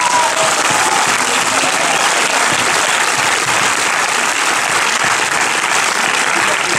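Dense, sustained applause from a large audience at a film premiere of La Vie scolaire in France, a steady wash of many hands clapping loudly throughout with no talk.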